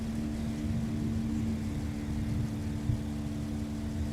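A steady, low, engine-like drone comes from a vacuum truck working with horizontal boring beneath an airport runway. A continuous tonal hum runs under the rumble, and one small knock sounds near the end.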